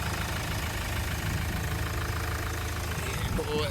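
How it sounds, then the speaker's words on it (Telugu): A 2017 Mahindra XUV500 W8 diesel engine idles with a steady low rumble that holds for the whole stretch, with a voice talking over it. "ఇంజన్ సౌండ్ మాత్రం ఇట్లా ఉంది."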